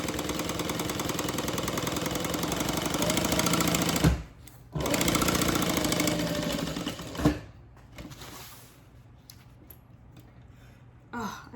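Sewing machine stitching a handbag runs in a steady, loud rapid whir, stops abruptly, starts again, then slows and fades into quieter pauses with a brief final burst.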